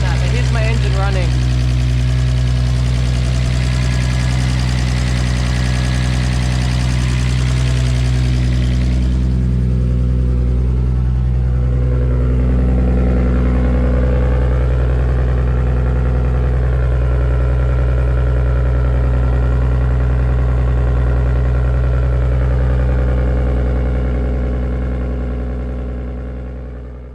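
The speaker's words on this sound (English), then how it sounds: "here's my engine running" A forged, built RB25DET car engine idles steadily with a deep, even rumble and a higher whine that drops away partway through, then settles into a constant hum.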